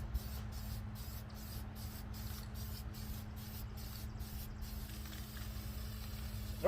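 Can of red spray paint hissing in a long, steady continuous spray over plywood, close and even throughout, with a faint rhythmic ticking at the top and no voices.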